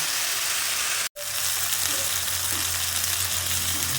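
Potatoes frying in oil in a pan for a Bengali-style prawn curry with potato, giving a steady, even sizzle throughout with one brief cut near the start and no voices.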